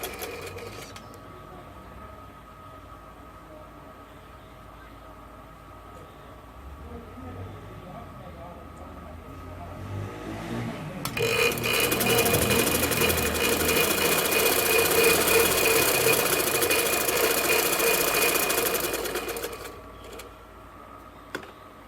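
A sewing machine stitches a kurta in one sustained loud run lasting several seconds, close by, preceded by quieter handling noises and a voice talking.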